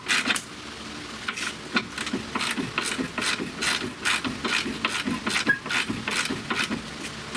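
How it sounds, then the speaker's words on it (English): Hand ratchet clicking on a suspension control arm bolt of a 2015 Nissan Altima, rear lower left side, in a run of quick repeated metallic ticks with short pauses, close to the microphone, with no talk. "My ratchet ain't going to be strong enough to do this."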